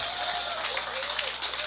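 A brief, steady patter of audience applause carries through the whole moment, fairly soft and even, with a crowd clapping together and no single claps standing out.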